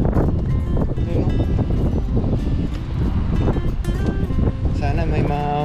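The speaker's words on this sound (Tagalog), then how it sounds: "sobrang hangin po ngayon" Strong wind at sea buffets a fishing boat, a loud, constant rush of gusts and microphone wind noise with water sounds beneath, while people talk over it throughout.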